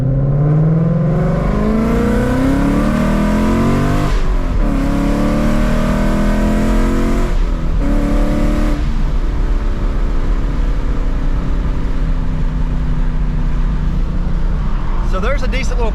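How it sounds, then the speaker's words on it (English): Inside a 700whp Mustang accelerating hard on a highway: loud engine roar climbing through the gears with brief dips at shifts, then settling into a steady drone, with a short burst of talk at the end. "how the car sounds under acceleration on the highway"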